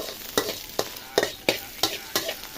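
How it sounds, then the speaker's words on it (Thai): Onion flowers stir-fried with chili and salt in a pan, a spatula scraping in regular strokes about every third of a second over a soft sizzle, nearby and clear. "เวลาผัดดอกหอมจะไม่ใส่อะไรเยอะนะคะนอกจากพริกกับเกลือ"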